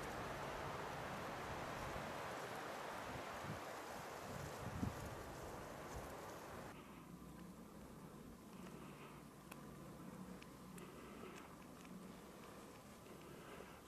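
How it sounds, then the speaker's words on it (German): Strong cold wind blowing at the top of a steep rock gully in the Gutenstein Alps, a loud continuous roar buffeting the microphone that eases somewhat toward the end. "Am Ende der Rinne beginnt ein heftiger, kalter Wind zu wehen."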